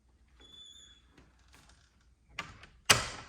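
A door fitted with a DoorWrap reusable construction protection cover swings open and shut, with soft rustling and faint movement followed by a sharper thud and a loud closing knock near the end.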